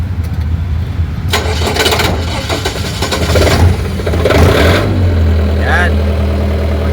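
An automatic genset engine cranks and catches, settling into a low steady idle rumble, with bursts of mechanical clatter and a voice speaking over it.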